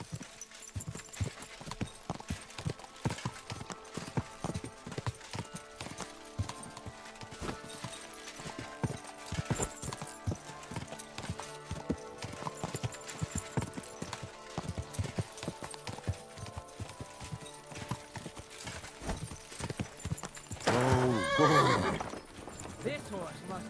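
Horse hooves clip-clop steadily in Kingdom Come: Deliverance II, with a close, loud neigh and whinny near the end, over game music and people talking throughout.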